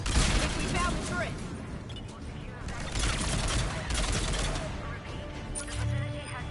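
Turret gunfire in the sci-fi shooter Mass Effect Legendary Edition sounds as dense bursts of rapid shots and blasts inside a facility, loud and continuous, with voices over the combat.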